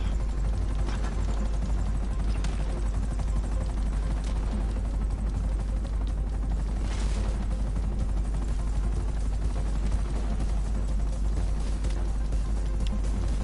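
Buzzard helicopter in GTA Online: a loud, continuous rotor drone with steady chopping texture, close and unbroken, mixed with faint mechanical clicks.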